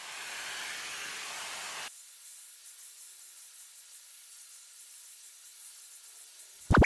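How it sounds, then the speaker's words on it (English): A Shark FlexStyle multi-styler blow dries damp hair with a steady airy whoosh that cuts off abruptly, followed by a quiet room and a brief loud clunk at the end. "I wanna keep my hair still a little bit damp, so I'm just doing a little bit on the blow dry."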